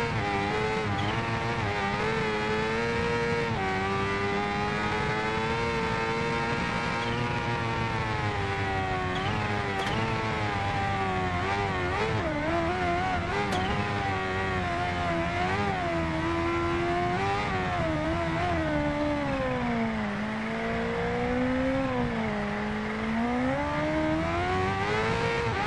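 A 2015 Kawasaki Ninja H2R superbike in the racing game Ride 2 revs hard and accelerates continuously, its loud engine note climbing and dipping through gear changes with no talk over it.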